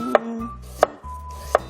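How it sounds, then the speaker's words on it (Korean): Three sharp knife chops cut through radish on a cutting board, evenly spaced about seven tenths of a second apart, close and distinct over a low background hum. "무를 한번 이제 조금 썰어 보도록 할게요."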